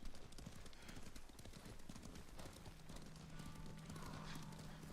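Horse hooves clip-clop steadily in Ghost of Tsushima, a rapid rhythmic clatter of several horses moving along a path, with an occasional whinny and game ambience beneath.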